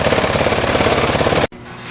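A Yanmar L70 6HP diesel clone engine runs at a fast idle, a loud, close, steady mechanical clatter that cuts off abruptly with a short silence.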